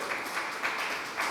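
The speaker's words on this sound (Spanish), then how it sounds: "Dele otro aplauso al Señor" Congregation applause during a church service, a brief, soft wash of many hands clapping heard from a distance as a steady hiss-like patter.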